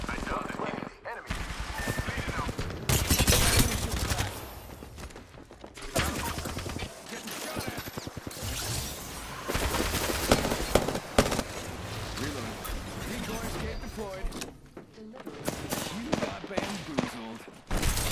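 Gunfire in the shooter Apex Legends, dense bursts of automatic fire and impacts coming in waves with brief lulls, mixed with game effects and players talking over it.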